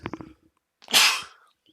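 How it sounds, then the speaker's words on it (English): A single sharp sneeze, close and loud, following a brief intake and a short pause, then quiet. "Take the headset off to sneeze"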